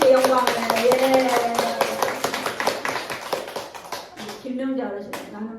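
Church congregation, with elderly members, bursting into brief rhythmic clapping mixed with voices in a Sunday service, fading after a few seconds as talking resumes.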